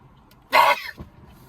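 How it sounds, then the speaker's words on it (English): One sharp, loud sneeze from a person sitting in a car, a short explosive burst followed by a softer catch of breath, with quiet cabin background before and after. "Sneezing in your car, it's crazy."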